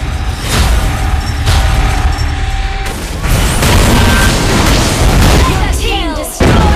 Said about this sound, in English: Team destroy the turret.